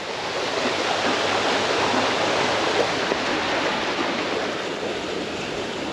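Water rushes and splashes steadily, pouring down from a water wheel nearby like a small cascade, a constant loud wash of noise with no talking.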